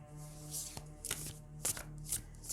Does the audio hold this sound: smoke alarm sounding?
no